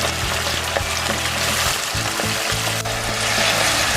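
Tomatoes with ginger and green chillies cook in a pan, giving a steady soft sizzle and bubbling with occasional light stirring clinks, close and continuous with no talk.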